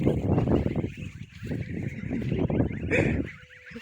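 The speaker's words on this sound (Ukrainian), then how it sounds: "каченята довольні" Ducklings on their first day out grazing on grass in a village field, a dense, continuous, close flock of soft peeping and honking calls.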